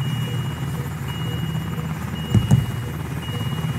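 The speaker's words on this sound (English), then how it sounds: "There's too much prop wash. I can't hear anything." Steady low helicopter rotor drone and prop wash fill the background during a transport resuscitation, with a brief louder thump of activity near the middle.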